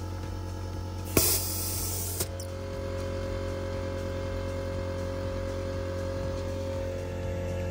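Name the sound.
air compressor repressurizing while inflating car tyres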